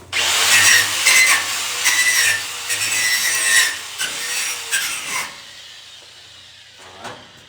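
A wire brush scrubs a 6010 weld in quick, loud, close rasping strokes for about five seconds, then stops, with a couple of faint scrapes afterward.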